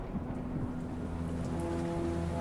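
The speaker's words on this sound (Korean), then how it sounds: "돌연 천둥번개가 치더니 소나기가 떨어지기 시작했다" A thunderstorm downpour roars steadily as heavy rain with low, rolling thunder rumbling beneath it, loud and unbroken, with no voices.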